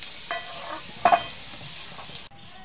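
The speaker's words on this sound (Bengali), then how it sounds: "আমি নাড়াচাড়া করে আলুটা একটু ভেজে নেব" Potatoes frying in hot oil in a kadai for a vegetarian paneer dish give a steady close sizzle, broken by a couple of sharp scraping stir strokes near the middle, with no talk.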